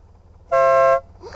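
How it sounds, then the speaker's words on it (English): A Stebel air horn fitted to a vehicle gives one short, loud, bright blast of about half a second, with a faint voice right after. "I put a Steeble air horn on this thing too"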